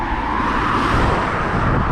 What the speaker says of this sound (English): You watch the speed of some of these fucking cars